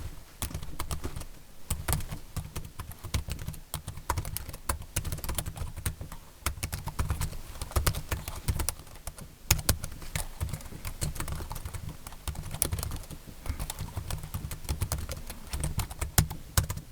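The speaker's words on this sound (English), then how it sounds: "Typing is quiet and subdued, it's pleasantly dampened and far less distracting than the 4Smarts." Typing on a portable keyboard made for a Boox Note Max tablet: a continuous run of quick, dampened key taps, close up and fairly subdued, with no voices.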